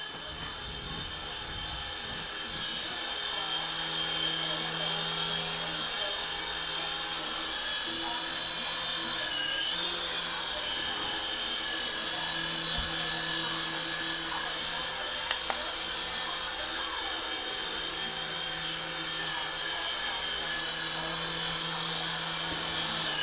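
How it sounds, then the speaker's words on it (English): A SYMA S50H remote control helicopter flies nearby with a high, continuous whining buzz from its small motor and rotors, holding steady with slight shifts as it moves. "we're going to go fly"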